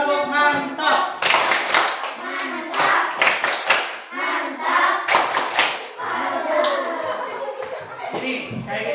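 Schoolchildren in a classroom perform a rhythmic group clapping chant, sharp bursts of hand claps alternating with voices chanting and a teacher talking, close and lively.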